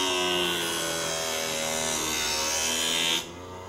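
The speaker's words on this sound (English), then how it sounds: "Once you are lined up and ready to sharpen, make a few passes." An ice skate blade ground on a sharpening wheel gives a steady, bright, rasping hiss with a constant low hum beneath it, lasting a few seconds before the grinding stops abruptly near the end and only the motor hum remains.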